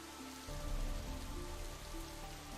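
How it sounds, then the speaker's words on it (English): Steady rain falling on a surface in the video game Psychedelica of the Black Butterfly, a dense hiss of drops with a low tonal hum underneath, continuous and fairly loud. "It's still raining."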